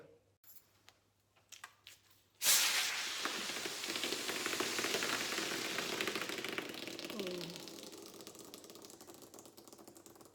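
A fizzy drink bottle fizzes: a few small clicks from handling come first, then a sudden loud hiss of escaping gas that settles into a steady, bubbling fizz lasting several seconds.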